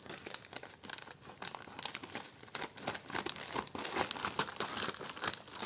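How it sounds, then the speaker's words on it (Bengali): A plastic delivery packet holding a Boat Stone 170 Bluetooth speaker being cut and torn open, heard as close, continuous crinkling and crackling of plastic with small tearing bursts, fairly quiet overall. "চলো প্যাকেটটা কেটে ফেলে"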